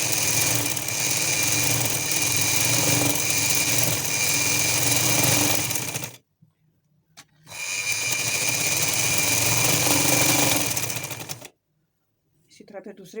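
A sewing machine runs steadily while stitching gathers on a newborn baby frock, in two long continuous runs of about six and four seconds separated by a short pause, close and loud.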